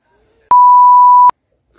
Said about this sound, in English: my phone just notified me